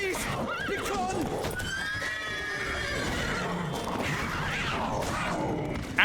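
A horse in The Witcher 3 video game whinnies loudly and close, with clip-clopping hooves and shouting voices throughout.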